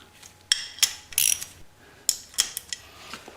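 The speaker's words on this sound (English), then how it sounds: "Just use a 1/4 inch ratchet and what feels like a pretty good" A 1/4 inch ratchet snugs bolts on a Honda Sabre cafe racer project, giving short, close bursts of sharp metallic clicking separated by quiet gaps.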